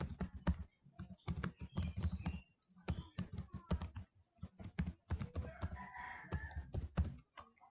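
An email address being entered on a computer keyboard, with rapid, loud, close key clacks in uneven bursts and brief pauses, and no speech.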